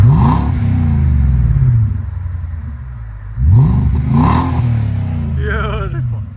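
Nissan Armada 5.6L V8 with an aftermuffler exhaust, revved in two loud, close blips that rise and fall, with a deep rumbling idle between them.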